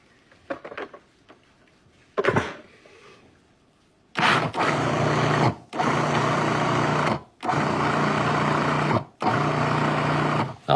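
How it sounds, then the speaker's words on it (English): Pine nuts and sugar are ground in a food processor for a pine nut lemon tart, with a couple of short clatters first, then four loud, even whirring pulses separated by brief pauses. "And then we're going to continue to grind it."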